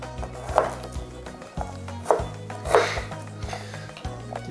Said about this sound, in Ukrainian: Ну і останнім нарізаю чесник.